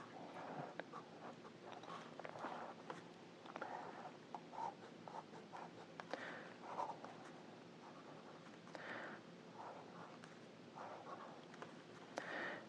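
A pen scratches across paper while doodling a cat, quiet irregular strokes and scribbles coming in short bursts, close and soft with no talking.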